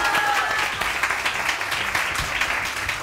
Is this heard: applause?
yes